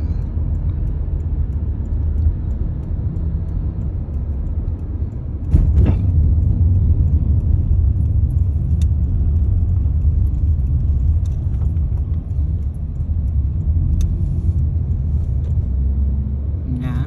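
Steady low road rumble of car traffic on a highway heading to Walmart in Oxford, Alabama, heard from inside a moving vehicle, with a louder swell partway through and faint voices underneath.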